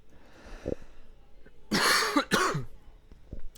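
Two loud, harsh coughs in quick succession, preceded by a few faint throat sounds and breaths, close to the listener with no talking.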